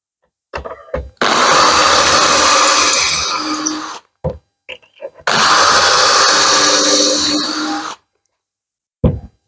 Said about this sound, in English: it also helps to drill straight or square into the wood